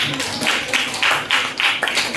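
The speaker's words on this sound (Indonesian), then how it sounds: "Tepuk tangan untuk Adit ya." Close, rhythmic hand clapping by a class of students, several loud claps in a steady beat, like a small group clapping together in unison.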